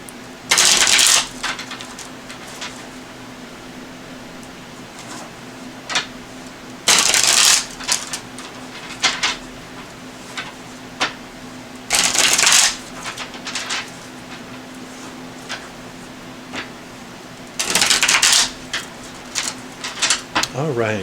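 Oracle card deck being shuffled, with four loud bursts of riffling cards spaced several seconds apart and smaller card taps and slides between them, close by.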